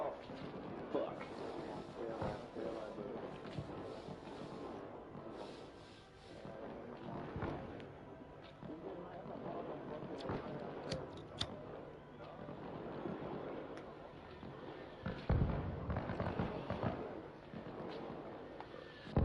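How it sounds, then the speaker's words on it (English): In the military video game Arma Reforger, enemy mortar rounds land as occasional heavy, booming impacts, the strongest about halfway through and near the end, beneath ongoing battlefield noise and players talking over voice chat. "Hey, these gotta be enemy mortars. They sound like they're coming from behind us."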